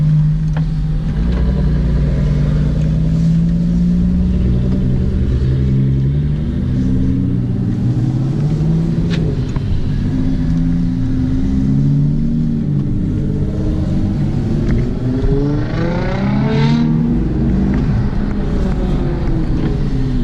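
A Maserati car engine hums and revs while driving, a loud continuous rumble with pitch rising and falling through gear changes, close and steady throughout.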